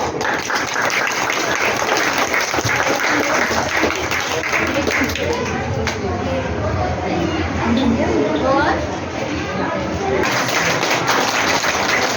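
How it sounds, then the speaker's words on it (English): An audience at a school graduation ceremony applauds steadily for several seconds, a dense, loud wash of clapping with crowd chatter mixed in. "Claps."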